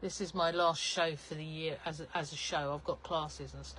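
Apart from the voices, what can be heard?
No everyday noise stands out behind the speech.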